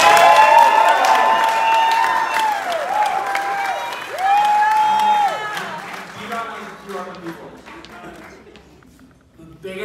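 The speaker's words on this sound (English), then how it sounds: "big round of applause." Wedding reception guests break into applause and cheering that swells, holds for several seconds, then thins to scattered claps, with a voice speaking over the crowd at the start.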